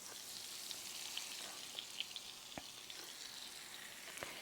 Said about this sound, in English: I'm going to go ahead and put our salmon in.